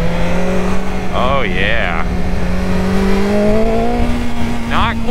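A BMW S1000XR sport-touring motorcycle engine wails steadily at high revs, pitch rising gradually, with two quick rev blips and a voice speaking briefly over the loud, constant engine and wind noise.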